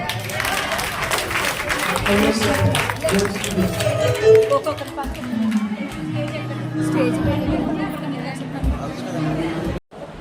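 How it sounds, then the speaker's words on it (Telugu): A church congregation claps and cheers together, a dense burst of applause mixed with crowd chatter and voices, loud and close, fading toward the end. "చప్పట్లు కొడదాం"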